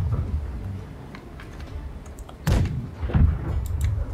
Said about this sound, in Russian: Передние пушки. Готовы?